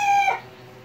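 Short crow from a rooster in a backyard chicken flock, a loud held cry that cuts off after a third of a second and leaves quieter background noise.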